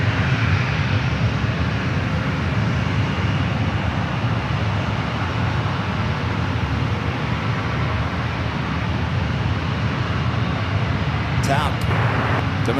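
A TAP Airbus A330neo airliner from Lisbon on short final at San Francisco airport gives a loud, steady, broadband jet roar that holds throughout, close and unbroken.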